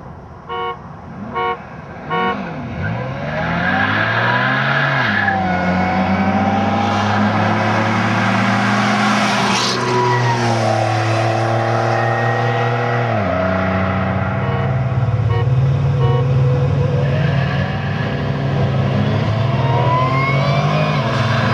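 Monte Carlo and Evo race cars roar and rev hard close by, engine pitch sweeping up and down through gear changes, with a few horn-like toots near the start, loud and continuous.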